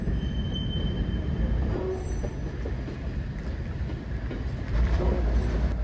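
A freight train with open grain hoppers and box cars rolls past close by, a steady low rumble of wheels on rails with faint squeals and clacks, no voices.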